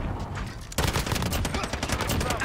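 A Finn LMG light machine gun in Modern Warfare fires in a very fast, continuous burst of rapid shots, starting softer and then growing louder and denser, with no voices.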